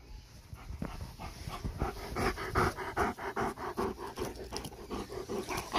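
A big dog pants close by in quick, rhythmic breaths that rise and fall steadily, with no talking over it.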